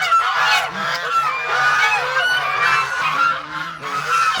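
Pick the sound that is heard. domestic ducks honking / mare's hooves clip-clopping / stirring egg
domestic ducks honking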